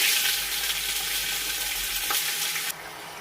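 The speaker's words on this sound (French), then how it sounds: "On rajoute notre viande dans notre casserole avec des oignons." A loud, continuous sizzle of meat frying with onions in a pot, with faint stirring sounds, then the sizzling drops sharply near the end.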